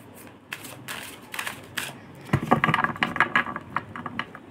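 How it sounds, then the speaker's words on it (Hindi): A deck of playing cards is shuffled by hand in a series of quick, crisp riffles and flutters, close and fairly loud, growing busier in the second half with no voices. "थोड़ा शफल कर रहे हैं"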